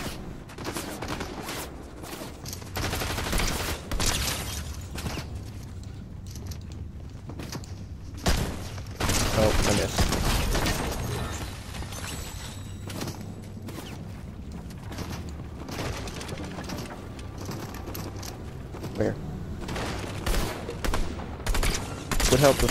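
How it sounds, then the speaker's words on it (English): Gunfire aimed at the player in Fortnite crackles in rapid bursts and scattered volleys across the stretch, with heavy thumps around the middle, loud and close over game ambience. "I'm getting shot at."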